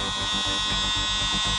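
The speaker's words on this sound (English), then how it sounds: "slide the power switch, and then the vacuum will start running" A small USB-powered mini vacuum keyboard cleaner runs with a steady electric motor buzz and whine, a constant close drone with a faint pulsing rhythm and no voices.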